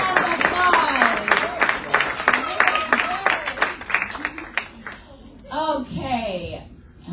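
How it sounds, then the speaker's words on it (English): Children in a classroom give a round of applause, sharp scattered claps running for several seconds under lively kid chatter and an adult voice, trailing off into talking. "Give a round of applause."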